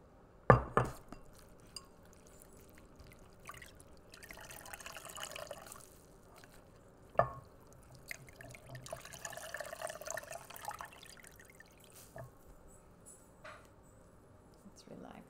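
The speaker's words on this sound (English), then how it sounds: "Let's relax you a little again with some cool water this time." Cool water trickles and drips during a soft-spoken men's shave and facial roleplay, with quiet splashing, occasional clinks of glass and sharp taps spread across a calm, close recording.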